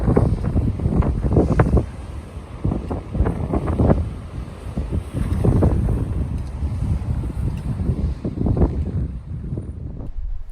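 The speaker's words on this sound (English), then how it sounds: "the waves are spraying and crashing into the cliffs on the coast here" Wind buffets the microphone in heavy, irregular gusts while ocean waves surge and crash against coastal cliffs on a volcanic Azores shoreline, the roar rising and falling in loud pulses.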